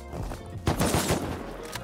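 AK rifle fire in the survival game Rust, a short burst of several sharp shots cracking out mid-clip, loud and close, with fainter rattling before and after.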